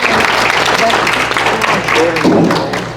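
Applause from the audience at a county board of education meeting, a short burst of dense clapping in a room, with voices talking underneath.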